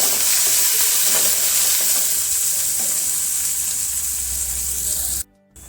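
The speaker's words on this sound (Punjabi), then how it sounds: "ਪਿਆਜ਼ ਪਾ ਕੇ ਆਪਾਂ ਇਹਨੂੰ 2-3 ਮਿੰਟ ਵਾਸਤੇ ਇਹਨਾਂ ਨੂੰ ਆਪਾਂ ਭੁੰਨ ਲਵਾਂਗੇ ਪਿਆਜ਼ਾਂ ਨੂੰ" Onions fry in a pan with a loud, continuous sizzle while being stirred, and the sound cuts off abruptly near the end.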